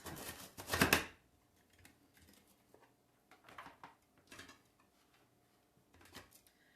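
A knife slices vegetables into long strips on a cutting board, with a loud clattering burst at the start followed by a few soft, scattered taps and cuts in a quiet kitchen.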